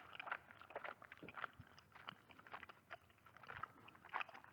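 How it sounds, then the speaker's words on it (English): Faint wet chewing of gum over a telephone line in Death Mark, a steady run of soft smacks and clicks with nothing else heard. "I hear a noise like someone chewing gum from the other end of the phone."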